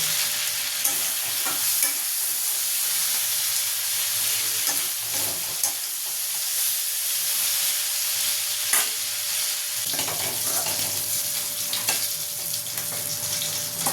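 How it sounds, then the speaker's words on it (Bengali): Prawns lightly fried in hot oil for a pointed gourd dish, giving a constant loud bubbling sizzle with occasional soft stirring knocks, close up and without speech. "দেখুন, মাছগুলোকে আমি এরকমভাবে ভেজে নেব, এই অবস্থাতে আমি তুলে নেব।"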